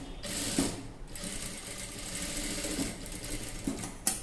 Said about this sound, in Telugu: అలాగే చుట్టూ రౌండ్గా స్టిచ్చింగ్ చేసేసుకోవాలి